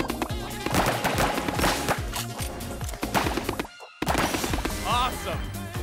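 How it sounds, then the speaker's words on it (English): Foam blaster shooting in the video game Foamstars: a string of sharp, loud bursts and splats in quick irregular succession, with a brief silent gap before the shots resume alongside game sounds. "Now, blast that foam."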